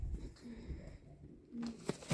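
Large, sturdy pigeons coo in low, soft rolling calls, a couple of murmured phrases rising over a muffled background with a sharper knock near the end.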